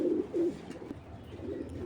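Racer pigeons coo in short, close, low rolling bursts, two quick coos at the start and another softer one near the end, with quiet background noise between.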